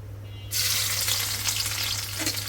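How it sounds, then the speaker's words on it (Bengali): Vegetable bhaji hits a hot pan and erupts into a loud, steady frying sizzle that continues to the end, close up over a low background hum. "আমার তো ভাজিটা বসাই দিই"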